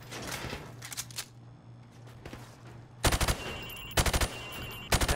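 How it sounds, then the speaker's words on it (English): Rifle fired from the hip during a target-range training session in Call of Duty Modern Warfare Remastered: after a quiet start, three sharp, loud bursts of automatic fire ring out close by in the final two seconds. "Now, shoot at the targets while firing from the hip."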